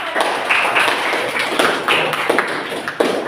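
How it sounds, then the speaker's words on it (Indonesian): A group of children in a classroom lesson clapping in a loose, uneven patter, steady and close, with scattered louder claps standing out. "Ya, beri tepuk tangan juga anak-anak."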